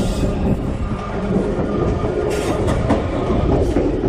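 Alaska Railroad passenger train from Anchorage to Seward rolling along, heard from the very back car: a loud continuous rumble with rhythmic clickety-clack of wheels on rail joints and a steady rattling of the car.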